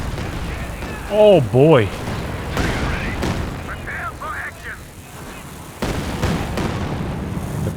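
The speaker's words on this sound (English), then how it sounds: "There's another Katyusha barrage" Katyusha rocket artillery barrage in Company of Heroes 2, with rumbling booms and rolling blasts beneath a busy game soundscape, rising whistling tones, and a commentator speaking over it.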